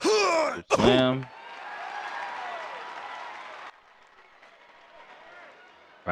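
Crowd noise in an Acclaim wrestling video game: a loud shout and a sharp slam open, then a steady wash of arena cheering and applause that drops to a quieter murmur.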